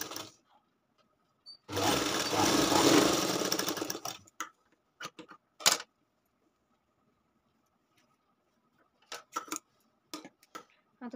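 A sewing machine stitches piping onto a katori blouse neckline in one steady, close run of about two seconds, followed by scattered light clicks and taps from handling the fabric and machine.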